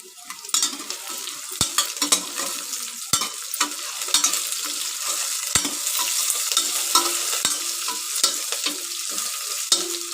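Dried red chillies frying in a pan for idli sambar give a loud, continuous sizzle and crackle, with a spoon repeatedly clicking and scraping against the pan throughout.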